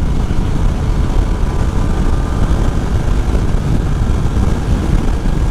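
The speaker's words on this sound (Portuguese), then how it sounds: "Ela faz um barulhinho de câmbio" A Yamaha Tracer 900 GT motorcycle riding on the road, with a continuous, loud, low engine drone and rushing wind, steady and unbroken with no voices.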